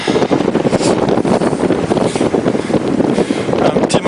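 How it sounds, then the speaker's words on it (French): Strong wind gusts blast across a mountain trail on the GR20 in southern Corsica, loud buffeting and roaring against the microphone in continuous pulses, with no clear talk over it. "Un vent souffle d'enfer."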